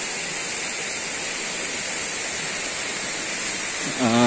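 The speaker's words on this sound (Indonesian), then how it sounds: "Nah, itu kelihatan kan air terjunnya. Kemericik itu." A waterfall at Sendang Tlimo in the Kabuh forest near Jombang gives a constant, loud, broadband rushing roar up close. A voice begins over it at the very end.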